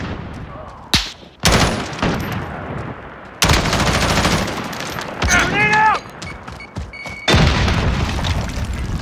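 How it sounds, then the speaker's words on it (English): A grenade explosion and bursts of gunfire from a Call of Duty Modern Warfare team deathmatch: sharp booms and rapid rattling volleys come in separated bursts, with brief quieter gaps between. "Grenade out!"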